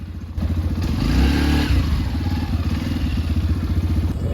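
A Yamaha motorcycle engine runs close by, a low, rapid pulsing idle that swells briefly as if revved, then settles back to a steady mechanical beat with some clatter.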